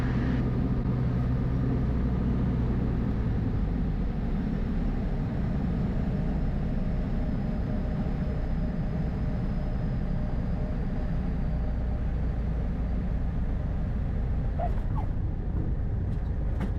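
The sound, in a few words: small airplane touching down and rolling on runway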